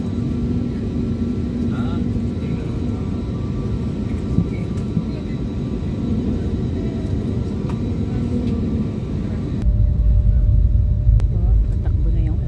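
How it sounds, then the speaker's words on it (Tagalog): An airplane speeds down a rainy runway for takeoff at dusk, a heavy steady engine rumble heard from inside the cabin that grows deeper and louder near the end. "Patakbo na yung aeroplano. Napataas na tayo. Runway."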